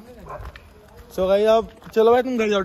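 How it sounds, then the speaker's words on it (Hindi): Dogs bark at night outdoors in two loud bursts of strained, tonal barking, close by, following a man's speech. "और हम पे कुत्ते भी भौंक रहे हैं"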